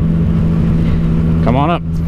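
A Triumph Daytona motorcycle engine runs in a steady, loud idle that rises sharply in a quick rev near the end, with a voice speaking over it.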